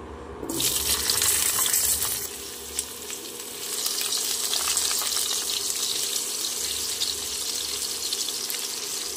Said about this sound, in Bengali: আলুগুলো 2 থেকে 3 মিনিট ভেজে নিতে হবে।